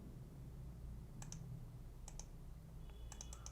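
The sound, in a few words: computer mouse double click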